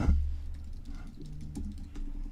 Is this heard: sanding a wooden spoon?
no